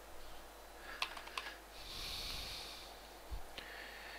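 Faint typing on a computer keyboard: a few sparse key clicks in short clusters, separated by quiet stretches and a soft breathy hiss, with no talking.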